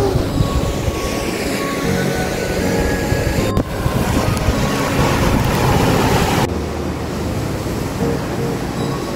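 Longfeng Valley waterfall at Alishan, Chiayi, rushes in a steady, loud broadband roar that fills the whole clip without pause, with no talk over it.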